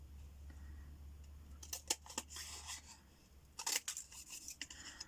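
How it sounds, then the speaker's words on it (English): Large scissors snip through paper in a few quick crisp cuts, with soft rustling and rasping between strokes in an otherwise quiet room. "just carefully cutting around my lines"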